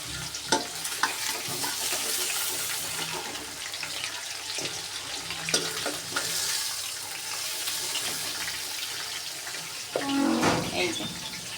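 Meat for biryani sizzles steadily in a pan, lightly fried rather than crisp, with a dense continuous hiss broken by stirring scrapes and clatter, louder near the end.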